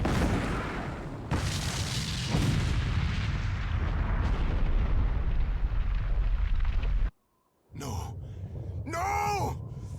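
An explosion in the video game Eiyuden Chronicle: Hundred Heroes: a loud, heavy blast with a rumbling roar that rolls on for several seconds, then a short gap before game sounds and a vocal cry.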